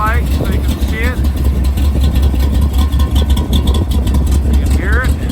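A 1935 Ford coupe rolls slowly past with a steady low engine rumble that stays loud and close throughout, while someone talks over it.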